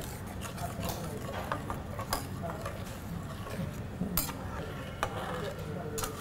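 Potatoes being added to gravy in a pan for Kashmiri dum aloo, marked by scattered utensil clinks and taps against the pan over a low steady cooking background, close and irregular.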